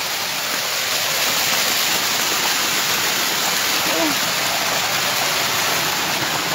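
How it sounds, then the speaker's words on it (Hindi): Floodwater rushes down steadily during a disaster in Kullu, Himachal Pradesh, a loud, close, unbroken roar of flowing water. "ये पानी कहाँ से आ रहा है, कहाँ से आ रहा है ये पानी"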